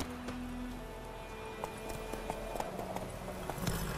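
Roach, the horse in The Witcher 3, gallops in a quick, even run of hoofbeats that carries on without pause, with game ambience underneath and no talking.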